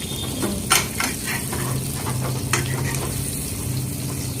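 Prawns frying for a prawn roast in a non-stick pan, with a steady loud sizzle up close. Spoon or spatula scrapes and taps come through at intervals, and no voices are heard.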